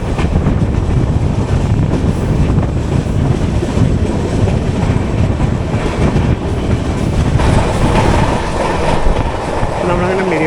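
The 12805 Janmabhoomi Express rolls along rails between Guntur and Secunderabad, heard from inside an AC Economy coach as a loud, continuous rumble and rattle with steady clickety-clack and wind roar throughout.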